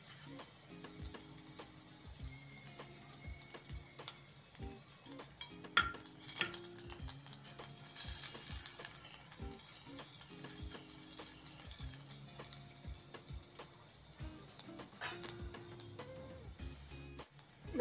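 Garlic cloves sizzling in a pan of oil while being prepared for a jowar vegetable soup, with a steady frying hiss and occasional stirring clinks and taps of a utensil throughout.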